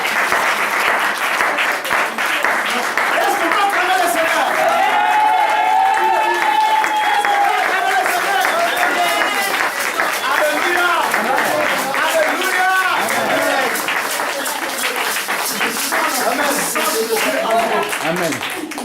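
Church congregation applauding loudly and steadily with continuous clapping and some cheering voices mixed in, a dense crowd sound sustained throughout.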